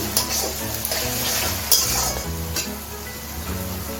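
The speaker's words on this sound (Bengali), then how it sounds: "আদা পেস্ট, একটু নেড়ে চেড়ে মিশিয়ে নিচ্ছি।" Ginger and chili paste frying in a pan for an egg curry, stirred with a utensil: a steady loud sizzle with scraping strokes and occasional clinks of metal on the pan, close and continuous.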